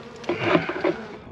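A honey bee swarm clustered on a mailbox gives a dense, close insect buzz, swelling in a few louder pulses over a steady hum.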